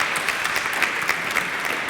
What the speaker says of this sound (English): Please join me in giving them a a very warm welcome, and clap your hands